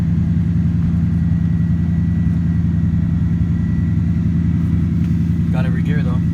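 A Lexus LS400 engine idles loud and close after a transmission swap, a steady low rumble that holds throughout while gears are shifted, with a brief voice near the end.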